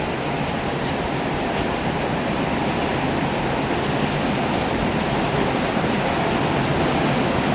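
Heavy, unbroken rain from Typhoon Kristine pours down with flooding around, a dense steady roar that fills the whole clip at constant loudness with no voices.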